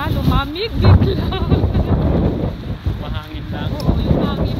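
Gusty outdoor wind buffets the microphone in loud, rumbling bursts, while people talk and a voice rises and falls over it.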